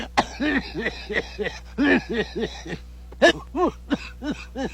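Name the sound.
person coughing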